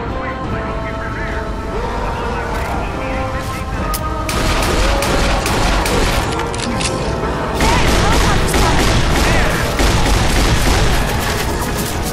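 Gunfire in the zombie shooter game Left 4 Dead 2, with dense rapid bursts and repeated booming shots that grow louder partway through, while players talk over the shooting.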